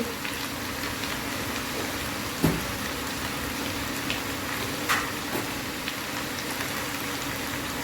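Cauliflower and spring onions with a little salt crackle gently in a pan, a soft, even bubbling sizzle close by, broken by a few light clicks of stirring and no speech.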